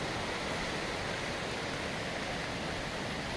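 A full river running high after heavy overnight rain on the Isle of Arran coast, a steady broadband rush of water held at one level throughout, close and continuous with no voices over it.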